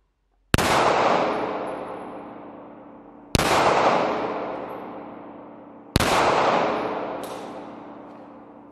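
Three loud pistol shots, fired with an Akra Origin red dot sight, crack about three seconds apart, each followed by a long echoing decay outdoors, with no talking.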